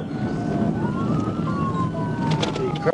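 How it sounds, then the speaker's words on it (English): Police sirens wail over steady road noise during a high-speed pursuit of a Dodge Challenger, their pitch gliding up and down, fairly distant. "Yeah, I hear sirens."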